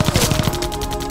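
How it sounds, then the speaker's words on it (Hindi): Rapid bursts of gunfire crackling like firecrackers in a Bhojpuri action film, a fast run of sharp, loud cracks repeating in quick succession with no talk. "पापा, पटाखे की आवाज कहाँ से आ रही है?"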